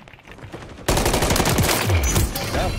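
Rifle fire in Call of Duty MW3 beta on the Highrise map: a loud, dense burst of rapid gunshots starts abruptly about a second in and continues unbroken to the end.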